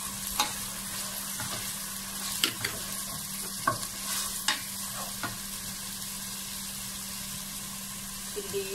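Small shallots frying in a pan as the base for Indian-style crab biryani, giving a steady close sizzle with several stirring scrapes spread through, and no talking.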